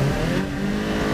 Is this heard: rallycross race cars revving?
yes